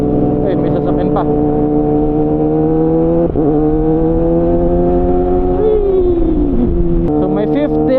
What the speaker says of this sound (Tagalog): Wait, may sasakyan pa.